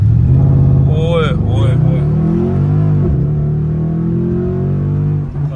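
A Mercedes car in Sports Plus mode revs and accelerates with a loud, steady engine rumble and rising tones, heard from inside the cabin. Someone shouts excitedly over the engine noise.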